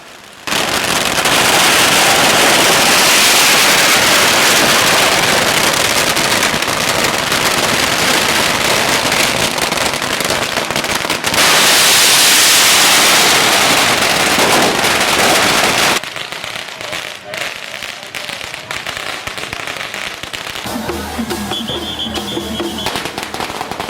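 Masses of firecrackers burst during a street parade of carried shrine carriages in Thailand, a loud, relentless crackling barrage for about sixteen seconds before dropping to quieter scattered pops and crowd noise.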